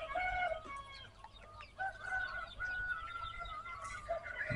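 Chickens on a chicken farm cluck and cackle continuously in a dense, fairly faint flock chorus, with a rooster-like crowing call woven through and no talking.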